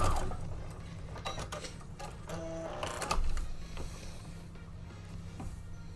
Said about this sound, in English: We're just going to be sewing up pieces here